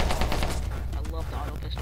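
An auto pistol fires in the People Playground sandbox game, a rapid burst of sharp automatic shots rattling off in quick succession before tapering into scattered clicks, with a voice talking faintly underneath.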